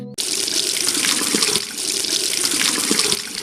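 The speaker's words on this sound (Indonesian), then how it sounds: "Pakai keran air yang di taman saja." Water gushing from a garden tap in a Doraemon cartoon, a loud, steady splashing flow that starts abruptly and runs continuously close by with no talking.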